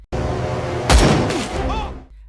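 Gunfire in a film scene, fired at a small plane over a jungle: a sharp loud blast near the middle, then a decaying rumble and softer follow-up bangs over a dense, loud background.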